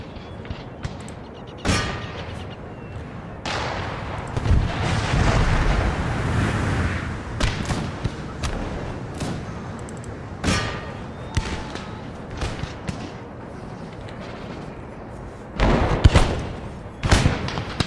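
Booming cannon artillery volleys in Empire Total War (Darthmod), Great Britain campaign battle: repeated loud thuds and cracks scattered irregularly, with a dense rumbling barrage in the middle and sharp bursts near the end.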